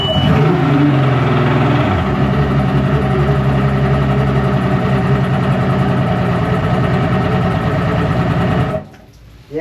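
A 2013 Mercury 250 ProXS outboard engine runs loud and close at a steady, rough idle, a dense continuous drone that cuts off abruptly near the end.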